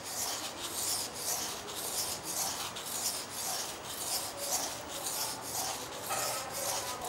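Wet sandpaper rubbed in steady rhythmic strokes across a relief engraving block, a close, soft rasping repeated evenly about twice per second, alone without talk.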